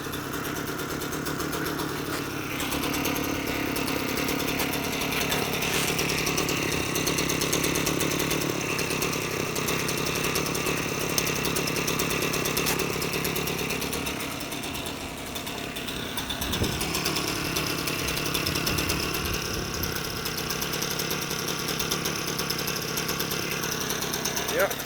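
A smoky two-stroke scooter engine idles after a cold start, its buzzy, high-pitched running steady and loud throughout, with a short dip and revving flutter partway through.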